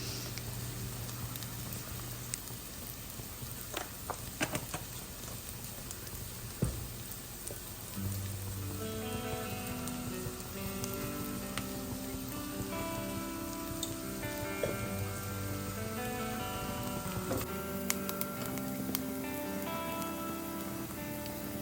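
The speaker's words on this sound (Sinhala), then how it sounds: "මේ සියල්ල එකතු කරලා හොඳින් ෆ්‍රයි කරගන්න ඕනේ" A spice mixture with chili powder, pepper, salt and cinnamon bark sizzles steadily while frying in a pan for jollof rice, a close continuous crackling patter with faint background music.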